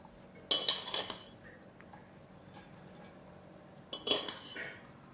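A metal spoon scrapes and clinks against a pot while cooked bagara rice is served into a bowl, two brief bursts of clatter separated by a quiet pause, fairly close, no talking.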